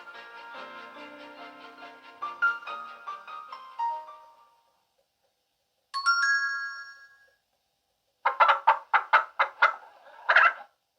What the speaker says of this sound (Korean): 닭 울음소리에 도로시는 눈을 떴습니다.